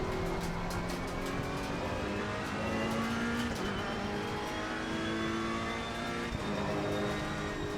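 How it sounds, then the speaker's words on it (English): A race car drives in a racing video game, its engine droning and shifting pitch steadily while gravel and dirt crackle faintly against the tires beneath the engine note. "You can hear the pebbles and the dirt on the tires"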